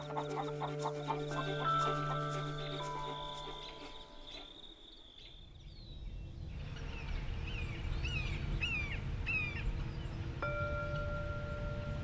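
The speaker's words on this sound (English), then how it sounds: "We return birds to coops at night when the rest of the flock is roosting." Chickens and roosters settle in a coop at night, with soft clucks and chirps mixed with a steady insect-like trill and a low rustling background.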